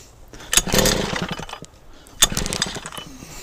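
A Mercury 110 9.8 hp outboard motor is pulled over and catches in two loud bursts, the first rising into a short rough run before dropping away, then a second surge that settles into a lower, steadier idle.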